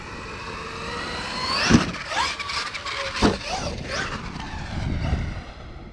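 An HPI Savage X Flux RC truck with a snugged-up slipper clutch runs with a whirring electric motor whine, revving up and down with bursts of acceleration, moderately close.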